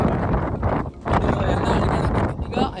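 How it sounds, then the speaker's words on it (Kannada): Strong wind buffets the microphone near Gaganachukki Falls, a loud, continuous broadband roar that surges and dips over a few seconds. "ಎಷ್ಟು ಕೆಟ್ಟ ಗಾಳಿ ಬರೈತಿ"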